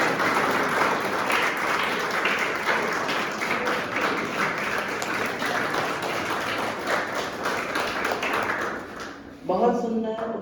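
Audience applause at a youth festival program for Swami Vivekananda's birth anniversary, sustained dense clapping for about nine seconds that fades near the end as a voice begins speaking.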